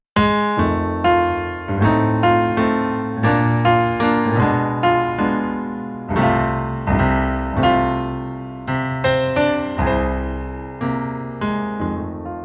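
A solo piano plays a rolling blues bass line in the left hand, low register, with quick grace notes flicking into each ascending note over steady chords.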